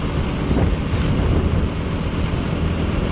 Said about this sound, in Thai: ลมโคตรแรงเลยครับ